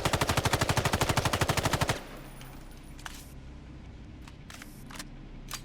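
Rapid automatic gunfire in the video game Islands of Nyne, a fast even burst of about twenty loud shots lasting two seconds, then a quiet stretch with a few faint clicks.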